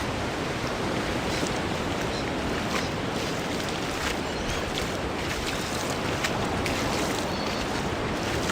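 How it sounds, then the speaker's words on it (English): Loud, continuous broadband rush of creek water spilling out at a rocky coastline in wild seas, with wind and surf blended into a steady roar and no talking. "I'm wondering if this is like a creek spilling out here."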